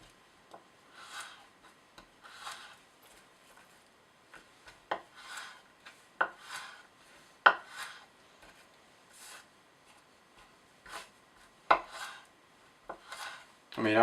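A cKc 1.0 knife slices through wood in a series of separate strokes, each a short scraping rasp with an occasional sharp click, close and fairly quiet, with gaps between the cuts.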